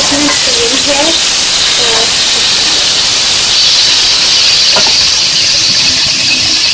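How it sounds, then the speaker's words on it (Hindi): Raw mango pieces are stirred with a spoon in a hot pan for a sweet guramba, producing a loud, continuous sizzling hiss with a voice speaking over it. "मैंने सारी कैरी डाल दी है और अब मैं इसे चम्मच चला रही हूँ।"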